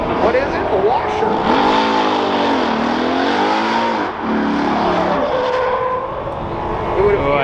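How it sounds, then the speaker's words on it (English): A 1969 Ford F250 crew cab engine revs with rising and falling pitch, the note cutting out as fuel is cut, loud and close, with people talking over it. "I think it's fuel cutting when he goes around the side there."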